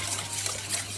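A small splash of water trickles into a beaten egg with a pinch of salt, a thin wash for coating a mustard-crusted tuna; a brief, soft, steady pour close by with no voices.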